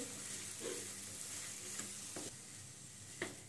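Finely chopped potatoes and other vegetables for Mumbai vada pav filling are sautéed in a pan, giving a soft sizzle broken by several scraping stirs of a spoon.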